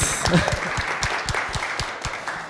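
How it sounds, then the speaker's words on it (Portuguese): Audience applause at the Influent Summit 2025 business event, a steady patter of clapping with a few louder individual claps standing out near the front, fairly close and moderately loud, with no talk over it. "Palmas!"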